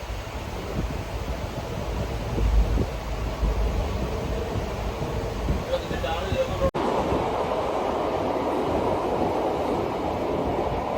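A passenger train runs near Mangalore, producing a steady loud rumble and rattle of carriages with wind buffeting throughout, and a brief sharp break partway through.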